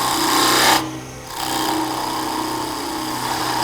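Wood lathe spinning a small Christmas bell clanger while it is rounded off, a loud, close, steady motor hum with cutting noise and a brief dip in the first second before it settles back.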